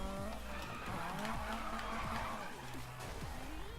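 A BMW M3 E30 drifting in Need for Speed 2015 gives a continuous howling engine note with repeated tire squeals sliding in pitch, while a voice speaks faintly underneath.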